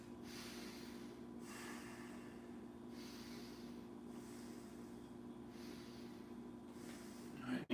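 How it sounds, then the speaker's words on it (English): Three slow rounds of deep breathing during a yoga flow, each a long airy inhale and exhale repeated steadily, close and quiet, with no talking. "3 rounds of breath."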